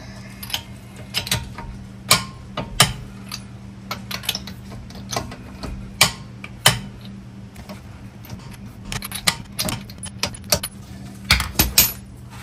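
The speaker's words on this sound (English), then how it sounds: "And then I go ahead and get them torqued." A torque wrench tightens the bolts on adjustable rear control arms during a camber adjustment, giving a run of sharp metallic clicks and ratchet ticks in uneven bursts, close and fairly loud with a low hum beneath.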